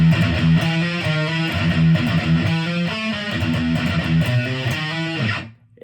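A distorted electric guitar plays the verse riff of a song at a slow tempo, repeating chugging low notes in a steady pattern for several seconds before it rings out and stops.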